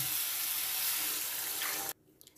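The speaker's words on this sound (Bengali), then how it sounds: "এবার আমি জল দিয়ে দেবো এর মধ্যে" Water poured into a pan of jackfruit curry masala makes a steady, loud rushing splash for about two seconds, then stops abruptly, leaving faint clinks.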